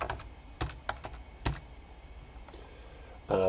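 Someone types a username and password on a computer keyboard, close by and fairly quiet. Separate key taps come in uneven bursts, followed by a louder clatter at the end.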